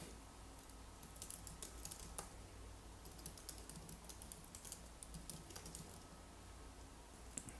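Quiet, steady typing on a computer keyboard while code is written, with dense fast key clicks running throughout and no talking.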